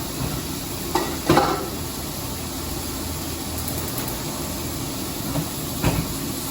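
Chicken tenderloin sears in a hot pan on a home stovetop during weekly meal prep, with a soft steady sizzle and a few brief scraping stirs of the utensil.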